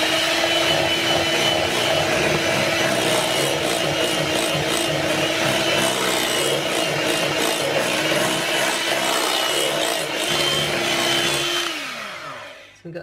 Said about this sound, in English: So we'll just whisk that in.